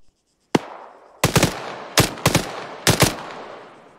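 Gunfire in the military shooter Arma 3: a single sharp shot, then three bursts of rapid automatic fire spaced about a second apart, loud and close, each shot trailing off in a short echo.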